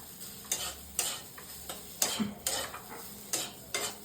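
A spatula stirring chow mein in a pan as it reheats in a little oil, repeated scraping strokes over a soft sizzle, close up with no talking.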